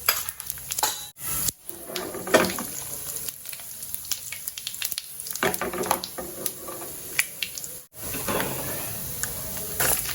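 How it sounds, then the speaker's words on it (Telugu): Mustard seeds, cumin and chana dal crackle and sizzle in hot oil for a gongura pickle tempering, with busy popping over a steady frying hiss and a few brief pauses between bursts. "ఇందులో పోపు గింజలు వేస్తున్నానండి ఆయిల్ ఆవాలు జీలకర్ర శనగపప్పు"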